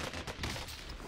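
A brief, faint burst of rapid gunfire in Call of Duty Warzone, with several shots crowded together in about one second.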